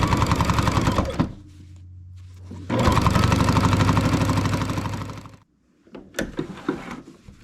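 A Baby Lock Jazz II sewing machine stitches quilt binding in close, loud rapid bursts, running about a second, pausing with a low hum, then running steadily for several seconds before stopping, followed by a few faint clicks.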